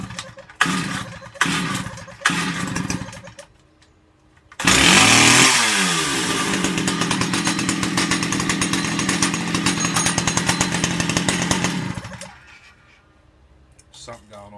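Small Stihl 010AV chainsaw, rebuilt from parts, fires up abruptly after a few brief attempts and runs loud and steady at high revs for about seven seconds before cutting off, with someone talking before and after.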